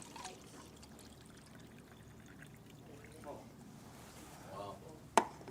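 Kangen water is poured from a container, a quiet, steady trickling pour with soft background voices and a sharp clink near the end.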